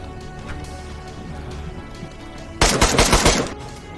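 Automatic gunfire in the survival video game DayZ: a loud, close burst of rapid shots erupts about two-thirds of the way in and lasts roughly a second over a low, steady game ambience.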